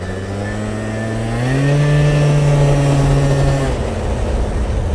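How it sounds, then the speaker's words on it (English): A 50cc scooter engine revs hard during a top speed run. It makes a loud, buzzy drone that climbs in pitch, holds high for a couple of seconds, then drops away near the end. "You can hear it not revving as high right away"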